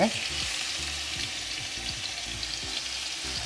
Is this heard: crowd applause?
no